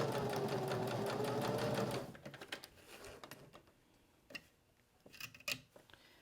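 A sewing machine chain-pieces small fabric pieces for a business card holder in a steady fast stitching whir for about two seconds, then stops and gives way to scattered clicks and small handling taps.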